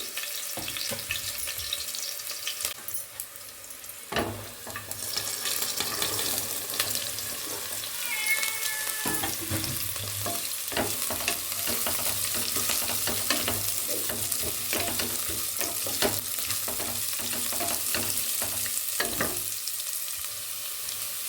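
Chopped carrot stir-fried in a pan for a carrot palya, giving a steady, close sizzle with frequent scraping and stirring clicks throughout and brief water-like sounds.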